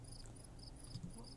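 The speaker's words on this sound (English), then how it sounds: "Do you want to be crickets? Crickets are right." Crickets chirp in steady, repeating bursts as an ambient sound setting in the Bejeweled 3 Zen Mode video game, a soft, continuous insect trill at low volume.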